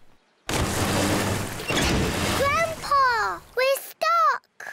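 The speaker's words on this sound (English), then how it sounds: "Grandpa Pig's boat has crashed into a little island" A cartoon boat crashes into a little island with a loud, sustained crunching rumble, followed by springy boing-like comedic effects and short excited vocal cries.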